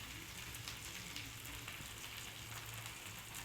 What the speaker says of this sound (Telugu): ఈ సాసులు ఇవన్నీ మధ్యలో కొంచెం ఫ్రై అవుతాయండి